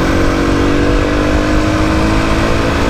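A motorcycle riding a short stretch of the Autobahn in Frankfurt gives a steady, loud engine drone blended with rushing wind and road roar, unbroken from start to end, with no talking.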